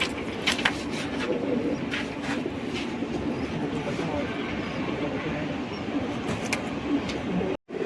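Allahabadi pigeons at a pigeon seller's spot in Wadala East, Mumbai, coo in a steady low murmur, with people talking nearby and a train rumbling past in the background.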